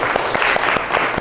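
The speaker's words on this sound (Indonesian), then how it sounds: "tepuk tangan untuk kalian semua." Classroom students clapping together in a short, fairly loud burst, with distinct claps standing out over a brief rhythmic patter.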